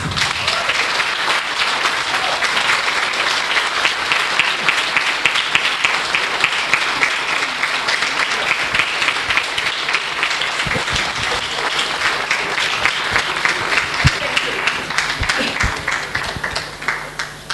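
Loud, continuous applause from a seminar audience, many hands clapping together in a dense, lively wash that holds strong for the whole stretch before tapering slightly at the end.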